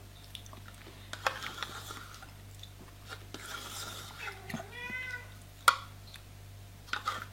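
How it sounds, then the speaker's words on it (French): A cat meows once in a rising and falling tone, fairly close, amid quiet room sounds with soft clicks, chewing-like noises and faint background activity. "Et voilà le chat qui miaule."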